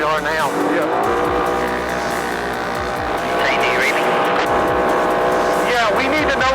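Off-road race car in the Mint 400 desert race, driven hard: a loud, steady engine roar with rising and falling revs runs throughout, overlaid by crew voices talking over it.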